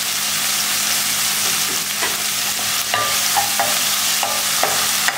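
Chopped onion and tomato with salt sautéed in a pan for fish kuzhambu, a loud close sizzle broken by repeated scraping stirs and clatters of the spoon.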